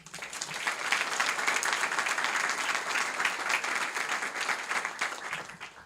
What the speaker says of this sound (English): Please give a round of applause for Jennifer.